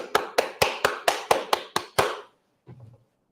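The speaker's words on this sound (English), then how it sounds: "You got clap on cue." About eight sharp, evenly spaced claps in quick succession, sounding like a small audience clapping together on cue, fairly close and loud, then silence and a brief faint low sound.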